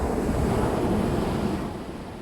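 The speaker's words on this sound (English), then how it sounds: "you can just listen to the sound of the ocean" Ocean surf rolls and washes continuously, fairly loud and close, with some wind noise mixed in and no talking.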